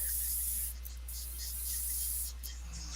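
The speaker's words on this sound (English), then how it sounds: "Spray it right through the airbrush." Steady airbrush hiss of Alclad sealer being sprayed, a soft continuous spray that stays even throughout with a few slightly stronger bursts, recorded close.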